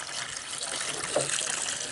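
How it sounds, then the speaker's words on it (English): Water pours into a mix while laying basement block, a steady, soft stream with a gentle trickling wash throughout, heard up close and fairly quiet. "Putting the water on"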